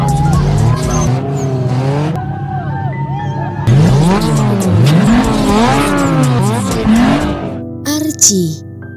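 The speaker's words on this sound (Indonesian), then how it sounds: "Terlihat ia mulai mengendarai mobilnya dan memulai balapan dengan salah satu musuhnya itu." Modified street race cars with high-spec engines racing each other, engines revving and sweeping in pitch while tires squeal in long wavering skids, loud and close, with brief gaps and a sharp burst near the end.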